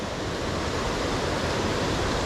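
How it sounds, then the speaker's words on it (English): Steady rushing of water pouring over Laurel Falls, a broad continuous roar close by that holds even throughout with no voices. "Water is flowing really good today."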